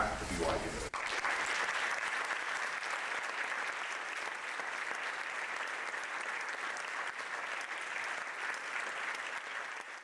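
Audience applause welcoming Dr. John Jensen, a distinguished alumnus, back to BYU, a steady loud sustained clapping from a large crowd for about ten seconds, starting abruptly after a brief moment of voice.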